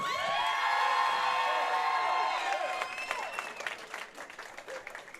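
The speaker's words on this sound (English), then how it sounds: "Let's hear a big round of applause for the number 2 seed," Applause and cheering for the second-seeded Waukesha North team at the Wisconsin high school bowling state team championships at Dale's Weston Lanes: a loud, dense crowd with high whoops and shouts over steady clapping that gradually thins out.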